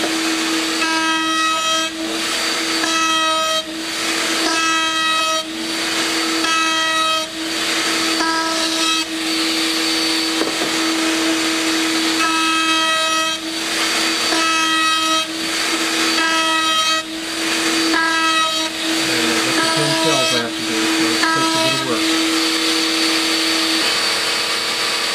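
A loud homemade router table cuts drum shell staves, its high steady whine broken by repeated passes of a few seconds each, with the motor tone shifting as the wood feeds through.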